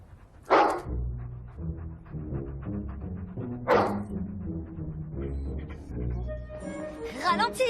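A dog barks in sharp bursts inside a cluttered house, with a couple of loud yaps and some whining over a steady background of music and household noise.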